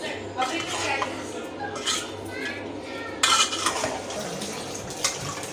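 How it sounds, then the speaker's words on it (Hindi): Beef shami kebab mixture stirred in a metal pot, with spoon scraping and clinking against the sides in repeated strokes, close and moderately loud, one sharper clatter partway through. "फिर इसको आपने अच्छी तरीके से मिक्स करना है बर्तन के अंदर"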